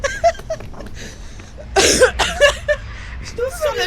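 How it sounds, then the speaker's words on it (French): A woman coughs a few times straight into the microphone, short sharp bursts loud and close, scattered among brief quieter sounds. "Je tousse sur le micro"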